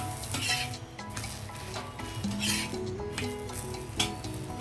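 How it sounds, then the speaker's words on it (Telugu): Bobbatlu, a sweet stuffed flatbread, roasts on a hot pan with a steady, close sizzle and occasional soft scraping, all under continuous background music. "ఈ విధంగా అన్నీ మనం కాల్చేసుకోవడమేనండి"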